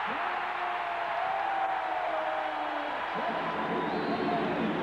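A sellout basketball crowd fills a Seattle arena during a 1994 NBA playoff game between the Nuggets and SuperSonics, a loud, steady roar of cheering with a commentator talking over it throughout.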